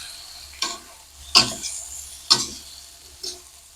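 Bean sprouts, sweet corn and tempeh being stir-fried with salt and mushroom stock in a home kitchen, a faint steady sizzle broken by four sharp, evenly spaced spatula scrapes against the pan, close by.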